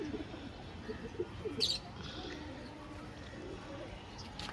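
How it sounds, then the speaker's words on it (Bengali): Two large Giribaz pigeons with pale eyes and waxy beaks coo faintly nearby, with a few soft chirps and a brief higher call over low background noise. "দুটোই বিগ সাইজের পায়রা আছে, গিরেবাজ, ঘিয়া চোখের পায়রা যাকে বলে।"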